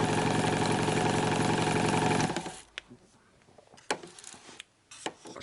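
A lathe fitted with an oval chuck turns PE 500 plastic at 700 RPM with a 15mm offset, giving a steady, fairly quiet hum for about two seconds before it stops, followed by faint clicks and handling noises.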